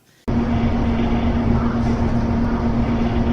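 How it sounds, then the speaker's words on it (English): Compressors run in the background of a ghost-hunting recording, a steady loud mechanical drone with a constant low hum that starts abruptly after a brief quiet moment and holds evenly throughout. "you can hear the compressors running in the"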